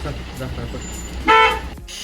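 A Tata Indica car on a muddy farm road in the rainy season gives a short, loud horn toot midway, while people talk nearby over a low rumble.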